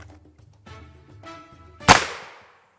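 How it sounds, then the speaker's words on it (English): A single 9mm gunshot striking a ballistic helmet mounted over clay: one sharp loud crack with a ringing decay, preceded by faint low handling noises and murmurs. "Our shot of 9mm was right there."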